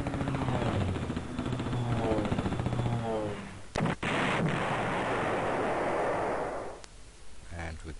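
Artillery fire in the Panzer General strategy game: a dense, sustained rumbling barrage of blasts and rattling shots, with a brief gap partway through before the loud bombardment resumes and then cuts off near the end.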